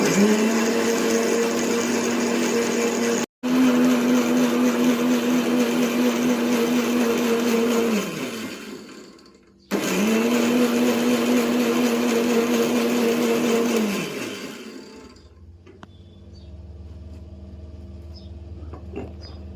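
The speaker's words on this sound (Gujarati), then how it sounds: "ઘરનો ફોદીનો, કોથમી અને મરચું તૈયાર કર્યું છે. પીસવાનું છે મિક્સરમાં." A mixer grinder whirring hard as it grinds mint, coriander and green chili, two long loud runs separated by a brief stop, then the motor winds down to quiet.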